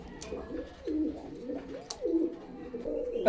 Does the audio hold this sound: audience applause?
no